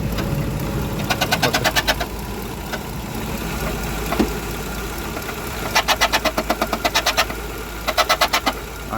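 A Renault Scenic engine runs at idle with a steady low hum, broken by repeated bursts of rapid ticking or knocking that come in short rhythmic clusters, close and moderately loud.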